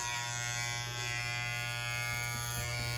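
Electric hair clippers run through a man's hair around the ears, giving a constant close-up buzzing hum with no breaks over a few seconds.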